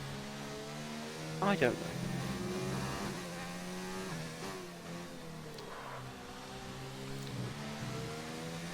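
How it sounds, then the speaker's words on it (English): Race car engine from an Xbox racing game at the Italian Grand Prix, a steady, fairly quiet mid-pitched drone running throughout beneath people chatting. "There's a car going around the track."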